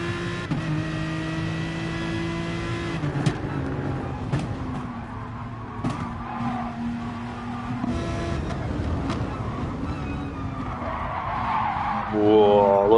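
A Gr.3 race car in Gran Turismo at the Nürburgring GP circuit, engine droning steadily with gear changes as the tyres scrub and squeal through an understeering corner.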